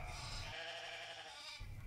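Flock of sheep on the edge of the desert bleating, one long wavering bleat over a softer chorus of other animals, fairly close with no talk.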